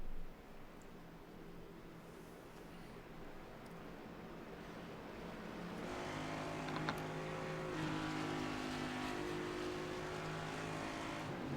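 A pack of NASCAR Next Gen Cup cars in the iRacing game rumbles through a pace lap at Daytona, engine drone building from a low hum to a louder steady roar as the field rolls past.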